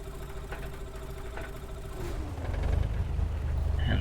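A light aircraft engine, flooded with fuel, cranks with rough rhythmic chugging and then catches, rising into a louder, fuller rumbling run, heard up close.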